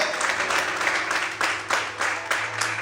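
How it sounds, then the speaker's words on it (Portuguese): Church worshippers clap loudly in a continuous burst of applause, with several sharper surges of clapping rising out of the steady roar and a low hum running underneath. "Se você crê, aplaude o Senhor."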